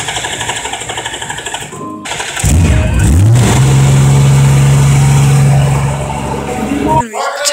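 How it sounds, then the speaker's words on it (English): A Honda Goldwing motorcycle cranks and fires up after a brief quiet gap, then settles into a loud, steady running drone close by, which cuts off near the end. "And starting Honda Goldwing."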